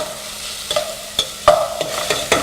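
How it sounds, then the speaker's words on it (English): Onions, carrots and celery sauté in a pot with a steady, soft sizzle, broken by several sharp clinks and scrapes as a utensil stirs the vegetables, with no voices. "We're going to saute for about 10 minutes or until the onions become translucent"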